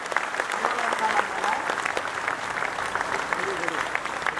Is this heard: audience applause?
yes